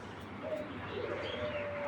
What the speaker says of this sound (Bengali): এটা হলো মাদি কবুতরটা